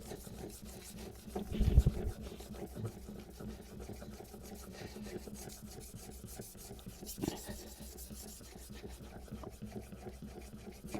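Hand plane blade sharpened on the last, finest grit, a soft continuous rubbing rasp of steel on stone with a slight bump early on, fairly faint and steady.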